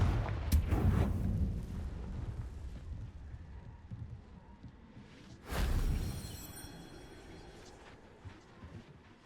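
Confringo blasting curse detonating in Hogwarts Legacy, a deep booming blast at the start followed by a second sharp, loud explosion midway, each trailing into a rumbling low roar and fading debris.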